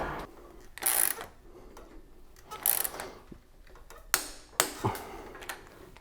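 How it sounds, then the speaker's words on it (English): Torque wrench tightening a bicycle bottom bracket, a handful of quiet ratcheting clicks in separate bursts, close and clear with no talk. "And this is torque to 56 Newton meters."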